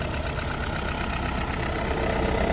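An engine idles at about 680 rpm, a steady, even rumble with a faint rhythmic knock running through it and no voices over it.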